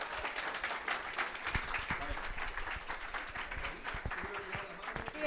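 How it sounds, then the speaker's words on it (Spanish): Steady applause from an audience greeting Pamela Pizarro at a talk on feminism and gender ideology, dense clapping holding at an even level for about five seconds with a few voices mixed in. "Un fuerte aplauso para Pamela Pizarro"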